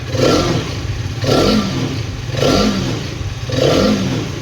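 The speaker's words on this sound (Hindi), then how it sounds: "चलो थोड़ा सा थ्रॉटल देते हैं" A Hero Karizma XMR 210 motorcycle engine is revved with the throttle four times in an even rhythm, each rise swelling over a steady idle. Close and loud, with no talk.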